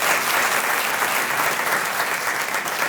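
Dense, sustained audience applause fills a hall during a live talk, loud and steady throughout with no voices on top.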